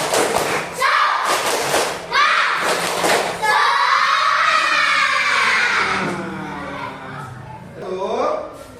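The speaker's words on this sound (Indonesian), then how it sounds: "coba kita kasih tepuk semangat" An Indonesian audience claps out a rhythmic tepuk semangat spirit clap in a few loud, close bursts, then voices join in a sustained group chant or shout.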